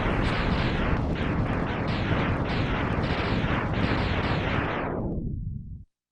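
Mega Man X video game explosion: a dense, loud roaring burst with repeated crackling pulses that holds for about five seconds, then drops in pitch and cuts off abruptly.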